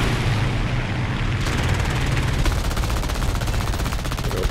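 Aircraft machine guns firing in War Thunder air arcade, an I-15 M-22 biplane in combat, with dense rapid bursts of gunfire over a constant engine drone, loud and close throughout.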